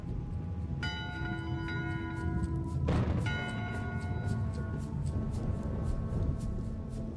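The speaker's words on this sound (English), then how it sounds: "That's not an official bell signal?" Ship's bell aboard a pirate ship in the game Return to Monkey Island rings with one clear, ringing strike that rings on, then a second louder strike near the third second, both over a steady low background hum.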